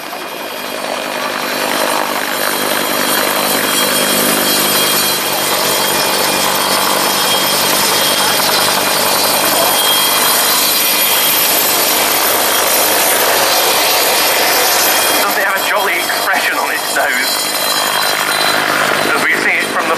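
Westland Whirlwind HAR.10 helicopter, an ex-RAF 22 Squadron machine, running at an air display, a loud, steady broadband engine and rotor roar that fills the scene without a break.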